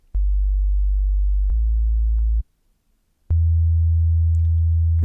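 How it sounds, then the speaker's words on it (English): A pure sine-wave sub bass tone from a Serum synth pitched down two octaves, held as a steady low note, pausing for about a second, then returning slightly louder, with soft clicks at each note start. "Really nice pure sort of sine wave."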